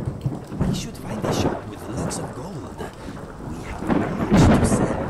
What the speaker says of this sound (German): Hey, es regnet.